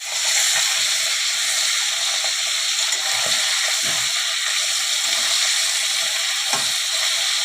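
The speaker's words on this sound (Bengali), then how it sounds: "এইবারে আমি আগে মাছের মাথাটাকে ভেজে নেব।" A rohu fish head fries in hot oil, giving a loud, steady crackling sizzle with a dense hiss that runs unbroken and close throughout, with no voices.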